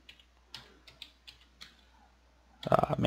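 Computer keyboard keys tapped one at a time in a game, about eight separate clicks with short pauses between them, close and fairly quiet, ending in a louder cluster of rapid key presses.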